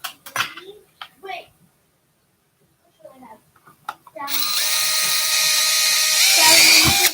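A few brief spoken words and clinks, then a loud power drill whirs steadily for about three seconds, close up, drilling out holes during a Walther PDP pistol build.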